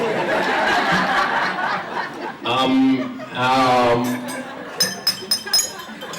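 A spoon taps a drinking glass at a club meeting, sounding a quick run of bright, ringing clinks near the end after laughter and crowd chatter.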